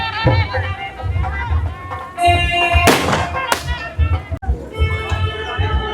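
Firecrackers bang in a few loud bursts amid a noisy crowd at a village Krishna-Radha wedding celebration in Punjab, with dhol drumming, music and chatter running throughout.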